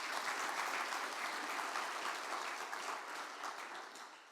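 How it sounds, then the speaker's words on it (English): Sustained applause from a conference audience at a Datadog summit in the Hamilton Hotel: dense, steady clapping from a large crowd filling the space, easing slightly toward the end. "So a round of applause for yourselves for showing."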